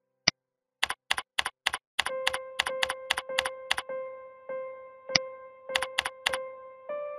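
Someone types login details on a computer keyboard, giving sharp isolated key clicks and then quick bursts of taps over a steady electronic hum, close and clear with no talking.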